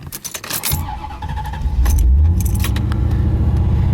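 A C4 Chevrolet Corvette Sport Coupe idles a little too high, a steady close engine drone that swells louder partway through, preceded by a brief metallic jangle of keys.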